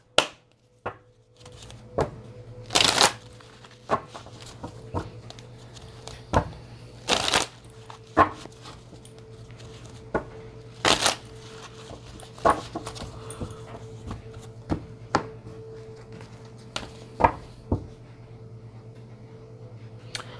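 Tarot cards being shuffled and handled, producing a string of sharp riffling slaps and soft flicks at irregular intervals over a low steady hum, close and fairly clear with no talking.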